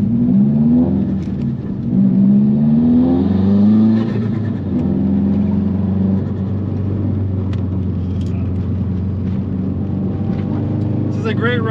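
A 2005 Subaru Impreza WRX STi sedan rolls downhill on a curvy road, its engine giving a steady low interior drone with shifting pitch, while someone talks over it throughout.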